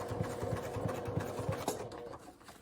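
Fast sewing machine stitching a circular seam on a port hole pouch, a quick rhythmic mechanical chatter of needle strokes that keeps going close by for a couple of seconds.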